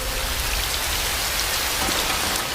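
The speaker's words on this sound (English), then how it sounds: "It's still raining." Steady, dense rain falls on surfaces in The Hunger Games: The Ballad of Songbirds & Snakes (2023), a constant even hiss with no pauses and no voices.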